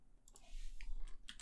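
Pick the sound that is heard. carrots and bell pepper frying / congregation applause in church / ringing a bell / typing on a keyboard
typing on a keyboard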